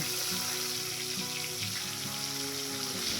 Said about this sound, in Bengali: ঠিক এইভাবে বাকি মাছগুলোকে ভেজে তুলে নেব।